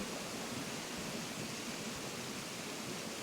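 A loud, steady waterfall roar in Animal Crossing fills the scene, a constant dense rush of falling water with no breaks.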